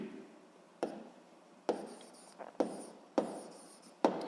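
Writing an equation during a Grade 7 physics lesson: a series of short scratchy strokes broken by five sharp taps, close and fairly quiet, with no talking.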